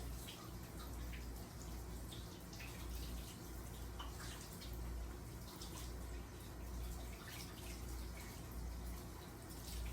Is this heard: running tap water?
yes